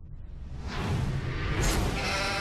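Sheep bleat close by in a horror-comedy scene, a few overlapping drawn-out cries rising over a rustling whoosh, loud and clear with no talking.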